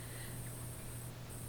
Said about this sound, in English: Candy paints are pretty easy to spray.